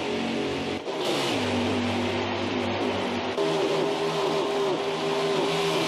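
A race car engine in the NASCAR Heat 5 video game holds a steady, loud, whining drone with pitch shifts as it runs through gears, alongside other cars roaring past.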